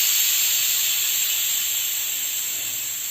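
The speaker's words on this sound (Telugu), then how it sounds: "ప్రెషర్ అంతా తీసేద్దాం." A pressure cooker holding peanut tomato pulao vents its steam in a loud, steady, continuous hiss that fades only slightly over about three seconds.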